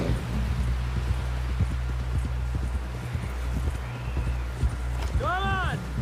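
Horse hooves clip-clop in a steady galloping rhythm while riding in Red Dead Redemption 2, close and continuous under characters talking, with a brief whinny near the end.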